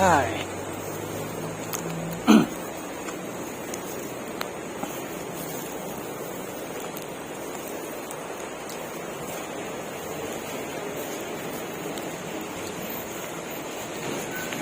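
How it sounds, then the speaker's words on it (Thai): Ocean waves breaking on a rocky shore make a steady, close roar of surf, with wind noise on the microphone, one brief knock near the start, and faint voices now and then. "เออคลื่น"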